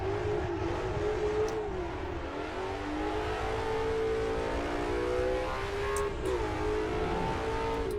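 The small block Ford V8 of a vintage racing car in Assetto Corsa drones loudly and continuously, its pitch rising and dipping slightly as the engine holds revs on track.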